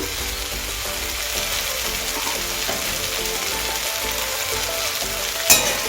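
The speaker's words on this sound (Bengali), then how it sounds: "আর একবার নেড়ে দেব" Mourola fish chorchori sizzles loudly and steadily in a pan while being stirred, with one sharp scrape or knock of the utensil near the end.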